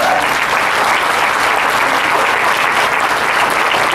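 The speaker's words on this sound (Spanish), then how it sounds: "¿Y cuántos le dan un aplauso a Dios?" A church congregation applauds during a Spanish-language sermon, giving a round of applause to God. The clapping is loud, dense and continuous, filling the whole stretch without any break.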